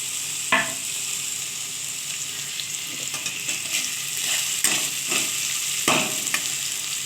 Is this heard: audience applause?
no